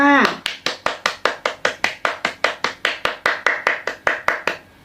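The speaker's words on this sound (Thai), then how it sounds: "ขอปรบมือเป็นกำลังใจให้เด็กๆ ทุกคนหน่อยค่ะ" Rhythmic clapping to encourage children during a Thai reading lesson: about twenty evenly spaced, crisp claps from a single nearby person, one after another at a steady pace, then stopping.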